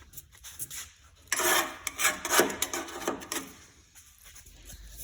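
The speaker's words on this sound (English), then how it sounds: "He's been scraping all this." Paint being scraped off the metal body of a John Deere LA120 lawn tractor in a garage, giving bursts of close rasping and rubbing strokes that swell in the middle and trail off to quieter scratches.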